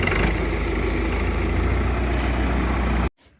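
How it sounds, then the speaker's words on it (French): A small tractor's engine runs at a steady, rumbling idle close by for about three seconds, then cuts off suddenly into near silence. "Bon, j'ai repris le petit tracteur."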